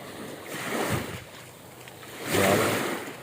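Gentle waves wash onto a sandy beach in two soft, slow swells, with light wind noise between them. No one speaks.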